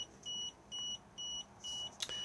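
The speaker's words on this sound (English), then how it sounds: "The reason we're now getting a warning beep is because we are not hitched up to the car" A Lunar Clubman SE caravan control panel sounds a warning beep, five evenly spaced high electronic tones repeating about twice a second. Each tone is close and clear in a quiet interior, with a brief click near the end.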